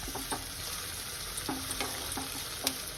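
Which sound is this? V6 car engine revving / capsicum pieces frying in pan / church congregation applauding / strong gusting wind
capsicum pieces frying in pan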